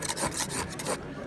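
An old knife sharpener grinding a knife blade, taking off metal: a close, harsh rasping scrape in quick repeated strokes for about a second, then stopping, with no talk.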